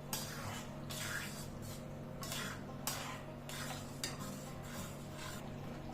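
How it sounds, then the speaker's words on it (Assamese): Panchratna dal is stirred with water in a pot, quiet repeated scraping strokes of a spoon against the metal in an uneven rhythm with faint hiss between them. "গোটেইখিনি ভালদৰে লৰাই দিছোঁ"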